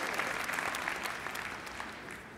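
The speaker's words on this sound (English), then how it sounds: "Yes, they are worthy of applause for sure." Dense audience applause, a steady wash of many hands clapping that gradually eases off slightly toward the end.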